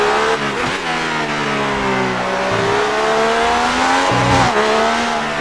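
Ferrari race cars at a historic French Grand Prix, engines roaring loud and close as they brake, downshift and rev back up, with a brief tyre squeal and no talk.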